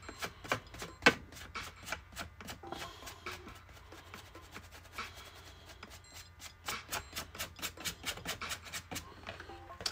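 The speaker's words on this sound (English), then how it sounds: "even using the brush to try to scrape some more of it back off" A brush scrapes material back off a Jason Voorhees mask, making repeated dry, rasping strokes that come close and clear, irregular at first and then settling into a quick, steady rhythm.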